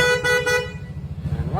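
A combo horn fitted to a Yamaha Aerox scooter gives two or three quick, loud, harmonically rich toots up close, followed by a steady idle rumble.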